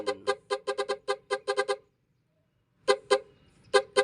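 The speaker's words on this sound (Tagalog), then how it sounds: "So, yun yung nausong busina natin." A newly installed musical car horn plays a rapid tune of bright, loud, close toots, then falls silent for about a second before a few more notes sound.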